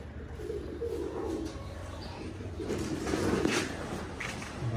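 Pigeons cooing steadily on a pigeon farm in Chattogram, a soft continuous murmur of low calls within a busy loft ambience, fairly close and moderately loud throughout.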